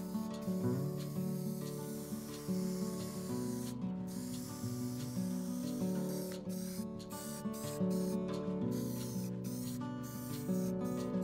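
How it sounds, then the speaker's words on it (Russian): Aerosol spray can hissing as black paint is sprayed over small homemade mounting parts, a steady close hiss broken by short pauses between passes. "Далее при помощи аэрозольного баллончика покрываю все детали черной краской."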